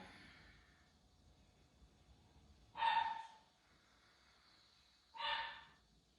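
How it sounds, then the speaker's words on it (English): Dogs bark twice in the distance, two short separated bursts over an otherwise quiet room background. "Got dogs."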